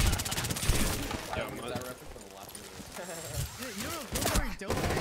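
Bursts of rapid gunfire crackle in a first-person shooter game, loud at the start and again near the end, with people talking over the action in between.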